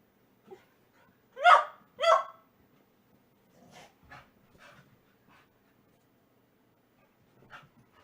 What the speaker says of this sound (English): I guess that's how all dogs play, isn't it?